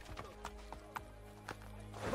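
Horse hooves clip-clopping in Assassin's Creed Brotherhood on Xbox 360, a quiet, fairly regular run of hoof knocks with faint game ambience and no talking.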